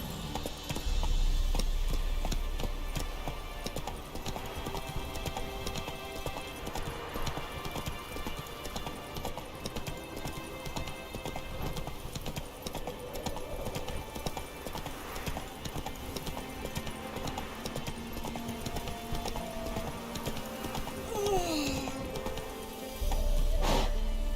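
Horse hooves clip-clop steadily while riding in The Witcher 3: The Wild Hunt, a brisk, even rhythm that stays close and clear over game ambience, with a brief sweep of other game sounds near the end.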